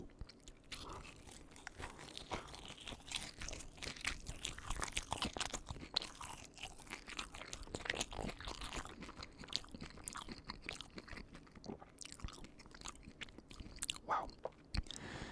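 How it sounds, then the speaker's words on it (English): Crisp breaded chicken tenders bitten and chewed close to the mic, with repeated sharp crunches and wet chewing in an irregular rhythm, no talking. "They've got a little bit of a crunch to them, more than a chew, but still a good bit of chew"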